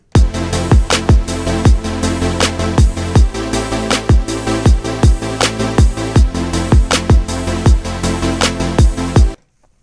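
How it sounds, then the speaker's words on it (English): Electronic beat with a punchy kick pulse, bass and synth chords run through an Ableton auto pan effect synced to eighth notes, their level swelling and dipping rhythmically, as if sweeping side to side, ending abruptly. "you can just throw an auto pan on here, turn up the amount, phase down"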